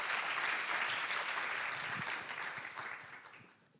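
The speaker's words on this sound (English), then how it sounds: "I was going to clap at the end." Audience clapping after a panel talk on sustainability investment, a brief round of applause that starts full and gradually fades out over a few seconds.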